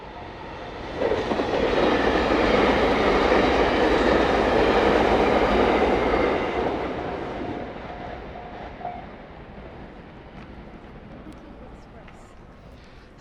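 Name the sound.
train passing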